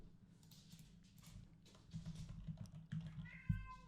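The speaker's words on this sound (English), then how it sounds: "And my cat is freaking out." Pet cat meowing faintly and repeatedly in a quiet room, short cries rising toward the end, with low background thumps and no talk.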